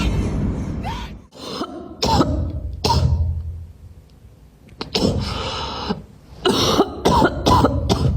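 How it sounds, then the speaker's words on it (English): Repeated coughs from a dog burst out in a string of sharp, close fits separated by brief quiet pauses. "With every cough, his trust fades a little more."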